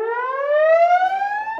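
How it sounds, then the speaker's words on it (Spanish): A volcano evacuation warning siren for a Cotopaxi eruption, a steady electronic tone rising slowly in pitch, loud and clear, sounding alone. "Los decibeles de la sirena ya son reconocidos por todos los moradores de la zona de riesgo."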